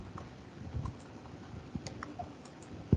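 Scattered key clicks from typing on a computer keyboard while writing code, soft irregular taps over a low room hum with a sharper keystroke at the end; no talking.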